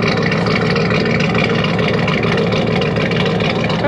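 Loud, continuous rumbling idle of a truck engine fitted with a TC2 camshaft and running with the mufflers removed, heard close up and steady with no speech over it.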